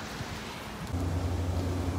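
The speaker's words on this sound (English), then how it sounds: "Yep, it started to rain." Rain falling outdoors near a large stadium, a steady broad patter with a low rumble of wind or distant traffic that swells partway through, no voices.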